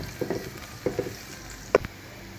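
Garlic fries in a pan, stirred until golden brown, with a soft steady sizzle under a few distinct scraping clinks of a utensil against the pan, close and quiet.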